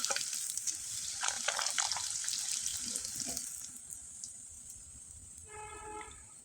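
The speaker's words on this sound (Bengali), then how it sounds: "আমি আপনাদের অনেক কয়েকবার ভেজে দেখিয়ে দিলাম" Jharna pitha, a crispy snack made only from wheat flour batter, fries in hot oil with a steady, close hiss of sizzling that gradually softens, and a few brief tonal chimes come near the end.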